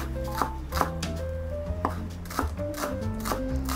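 Rhythmic knife strokes on a board as water chestnuts are chopped for a minced fish and pork omelette, about eight to ten crisp chops at an even pace over a low background hum.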